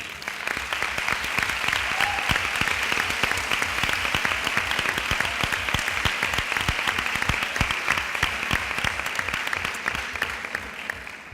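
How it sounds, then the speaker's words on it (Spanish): Sustained audience applause for a morning speaker at a conference-style session, steady and dense throughout without talk, moderately loud and close. "agradeciendo con un aplauso la intervención de la ponente de esta mañana, Miriam."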